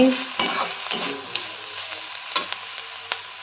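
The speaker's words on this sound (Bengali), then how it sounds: "পেঁয়াজ কলিতে আলুতে ভাজা করছি" Potatoes with spring onion greens fry in a pan, a steady sizzle with light scraping and clinks as they are stirred, close and fairly loud with no talking.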